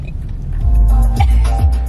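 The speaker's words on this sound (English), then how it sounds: "So we in the car now." Steady low rumble of a car interior while riding, with road and engine noise filling the cabin and a few soft thumps, no talk.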